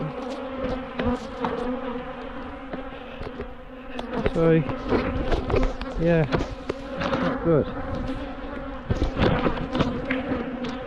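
Angry bees buzz steadily near their hives outdoors, a dense close swarm drone with individual insects swooping past, while someone talks intermittently over the noise.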